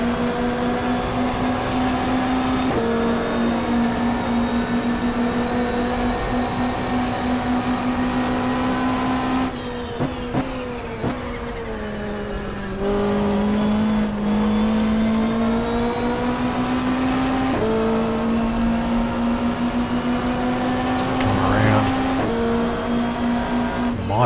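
Touring car engines from a 1995 Australian Super Touring Championship race at Symmons Plains in GTR2 drone steadily and loudly. The pitch rises and falls through repeated upshifts and braking, with no talk.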